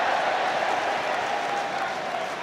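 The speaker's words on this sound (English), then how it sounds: "It's an ironic cheer from the fans on that far side" Football fans in a stadium crowd at a Leeds v Manchester United Carling Cup match raise a sustained, broad ironic cheer and applause from the far side, steady and loud throughout.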